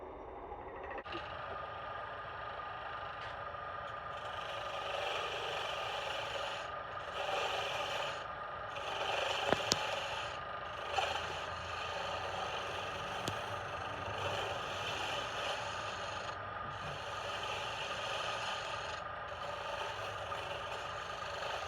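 A wood lathe spins at about 1,000 RPM while a gouge rough-turns a birch bowl, a continuous scraping hum with repeated rhythmic swells of cutting noise and a couple of sharp knocks.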